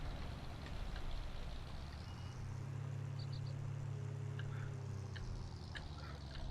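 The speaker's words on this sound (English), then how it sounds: "So let's start the engine." A harvester engine starting up in Farming Simulator 2019: a low, steady droning hum settles in after about a second and runs on evenly, with a few faint high chirps and beeps scattered above it.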